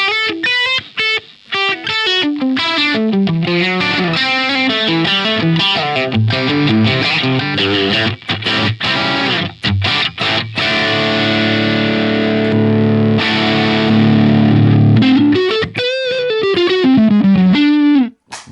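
Electric guitar played through a Helix Marshall Plexi amp model, loud distorted notes and ringing chords with a snarling edge, a continuous passage with no voice.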